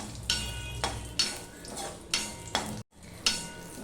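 Bay leaf, two cardamom pods and three pieces of cinnamon sizzle in hot oil for a tempering. A spoon scrapes the pan in several distinct strokes over a soft, steady fry, and one brief gap comes near the end.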